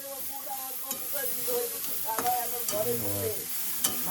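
Food fries in a kadai wok with a continuous sizzle, along with scraping, stirring strokes and a few sharp clinks, while tonal background sounds run beneath.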